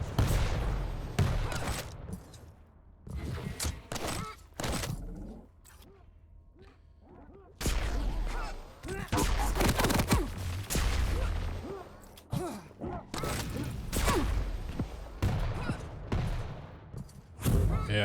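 Shotgun blasts in Quake Champions, a fast arena shooter duel, with loud punchy bursts scattered among jump thuds and other game effects, clustered in rapid volleys with a quieter gap in the middle.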